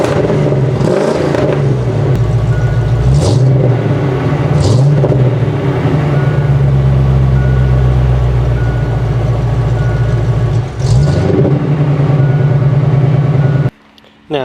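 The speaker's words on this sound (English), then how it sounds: "I'm gonna get a few revs in for you guys though." A Foxbody Ford Mustang engine revs in several loud bursts, rising and falling over a steady rumbling idle, with a brief cut near the end.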